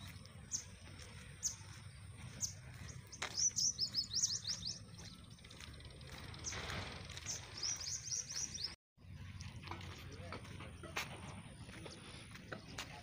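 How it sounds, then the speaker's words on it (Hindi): Early-morning birdsong in a village: faint chirps and short twittering trills come and go over a quiet background hum, with small outdoor noises between the calls. "परिंदों की आवाज़ें बहुत खूबसूरत हैं सुबह सुबह।"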